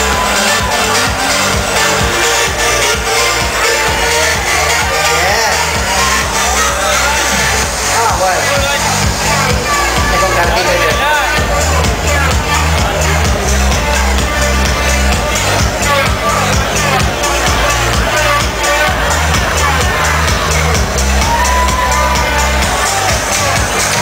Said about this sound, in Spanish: Eso, fuerte aplauso.